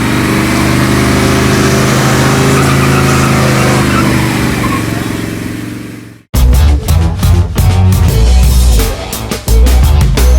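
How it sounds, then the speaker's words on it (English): A van does a tire-smoking burnout while leaving Gateway on Power Tour 2015, its engine roaring loud and sustained for about six seconds before the sound cuts abruptly to a different loud passage. "we couldn't make our own tire smoke on the way out of Gateway"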